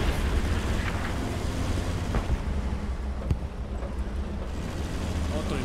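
Muffled, rumbling blast of a tank shell impact in a tank war game, a low booming roar with a few sharp cracks, under a voice talking.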